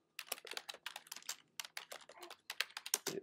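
Fingers type on a computer keyboard in quick, close clusters of crisp key clicks with short pauses between bursts, quiet and alone without speech.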